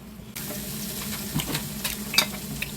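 Pork belly (samgyeopsal) sizzles on a grill at a home meal, a steady frying hiss starting abruptly after a brief quiet moment, close and continuous with a few crackles and pops, no talking.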